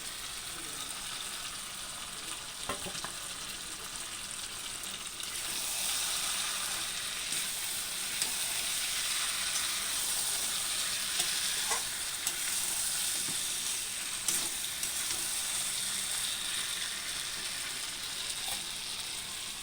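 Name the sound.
onions sizzling while frying for chicken recipe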